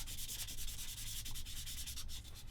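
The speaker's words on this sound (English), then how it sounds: "I do prefer, as I think I've said before, wet sanding" Steady back-and-forth rasping of wet sanding strokes with a Glory sanding stick on a Bronco 1/35 Mk XXIII submarine model kit, a continuous soft scratchy rubbing close up with no voices.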